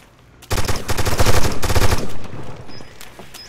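Automatic weapon fire in the video game America's Army, heard as a rapid, loud, close burst of shots lasting about a second and a half. The burst tails off into a quieter background with a couple of faint metallic pings.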